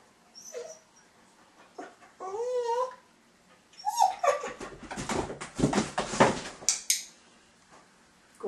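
Dog whimpering and whining in short bursts at close range, followed by a stretch of clattering and rustling like dishes and a box being handled, with a few sharp knocks at the end.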